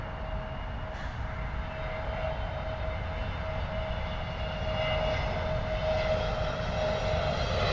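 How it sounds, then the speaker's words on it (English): A British Airways A320neo coming in to land at London Heathrow from Lisbon, a steady distant jet roar with a faint high whine, fairly quiet and growing slightly louder toward the end. "another British Airways A320neo coming in from Lisbon"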